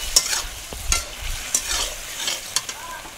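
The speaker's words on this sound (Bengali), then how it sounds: "এবার আমি ভেজে রাখা দিয়ে দেবো ফুলকপিগুলো, দিয়ে এর সাথে ভালোভাবে কষিয়ে নেব।" Fried cauliflower florets are stirred in a spice masala in a pan, with soft sizzling and a series of distinct scraping stir strokes at a steady pace.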